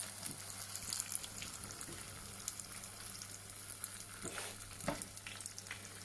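Banana fritters frying in hot oil give a soft, steady crackling sizzle, fairly faint, with a few louder bubbling bursts and a low hum underneath.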